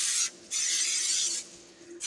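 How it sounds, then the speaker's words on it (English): Olive oil sprays onto parchment paper in two close, hissing bursts, a longer one following a short one, then a brief third spurt starts at the end. "So I'm just going to spray the parchment with olive oil."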